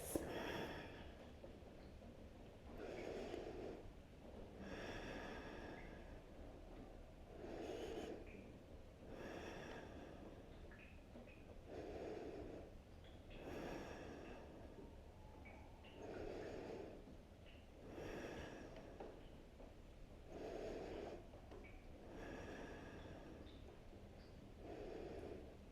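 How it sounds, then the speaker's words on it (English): Slow, deep breaths during a shoulder stretch, about nine audible inhale-exhale cycles at an even rhythm, close and soft, with no speech. "Now take those big deep breaths."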